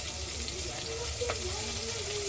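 Small onions fry in oil in a pan, giving a steady, close sizzle with faint stirring throughout and no talking.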